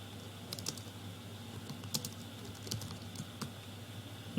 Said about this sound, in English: now that I've finished typing my command here